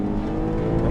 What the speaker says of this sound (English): Nothing's cutting in. Engine power comes on right away.